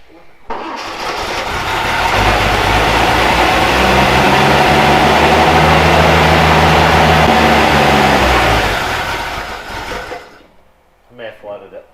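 An old Toyota Land Cruiser FJ40 engine, left sitting for 20 years, cranks and catches into a loud, steady rumble close by for several seconds before dying away, with people talking briefly afterward.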